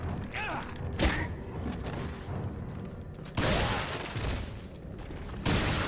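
Gunshots and heavy thuds in Resident Evil 4 at El Lago, with a couple of sharp loud bursts standing out over mechanical clatter and a busy background.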